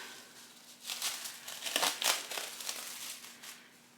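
Chilled pie crust dough is unwrapped from its crinkly wrapping, giving close, quiet crumpling and rustling in irregular bursts for a few seconds.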